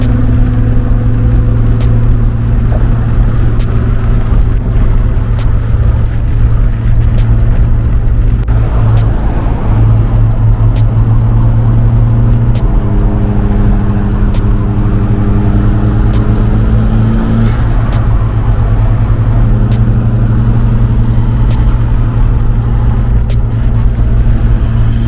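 A Mitsubishi Evo drives on a street run with its engine droning steadily and loud throughout, shifting pitch as it accelerates and settles, close and continuous with no talk.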